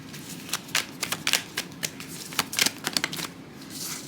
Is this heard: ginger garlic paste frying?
no